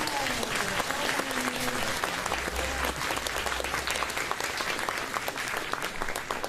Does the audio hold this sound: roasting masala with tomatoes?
no